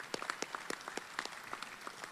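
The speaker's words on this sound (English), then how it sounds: "let's give a big round of applause to Jostens for the sponsorship of this award" Applause at a trophy dinner, a small crowd clapping with distinct overlapping claps, fairly faint and brief, with no voices.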